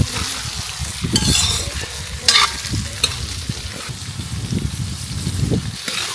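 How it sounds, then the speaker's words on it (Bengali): Cauliflower with green chillies and carrot sizzles in hot oil in a pan over a village clay stove while a spatula scrapes and stirs, close and loud, with short scraping bursts over a continuous crackling fry. "ফুলকপিগুলো ফ্রাই করে দেবো সুন্দর করে।"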